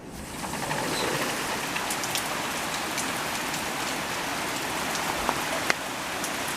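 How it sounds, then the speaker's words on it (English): Heavy afternoon rain bucketing down outdoors, a dense steady hiss of drops on surfaces with a few sharper splats, close and continuous with no voices. "It's 2 o'clock in the afternoon and it's bucketing."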